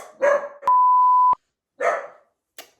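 A dog gives a few short, sharp barks close by, separated by pauses, with a steady electronic beep tone sounding between them.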